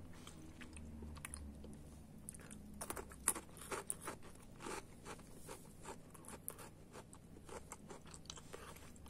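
A Biskolata chocolate biscuit stick with puffed rice gets chewed up close, a quiet series of crisp crunches and bites with irregular rhythm and no talk.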